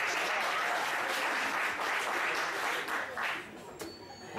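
Audience at a darts final applauds steadily, dense sustained clapping from a crowd filling the space and tapering slightly toward the end.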